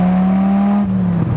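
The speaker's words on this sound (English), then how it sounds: "I just wanted to run it through second gear at least so you can get an idea of really what this thing sounds like under the load" A 2006 Dodge Viper Coupe engine holds a loud, close, steady drone for about a second, then the revs drop away briefly.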